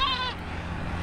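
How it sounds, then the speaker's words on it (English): Goats bleating outdoors while being taken to a market in Kenya, one clear near bleat at the start fading into steady outdoor background noise. "Means we are outside with goats heading to the market."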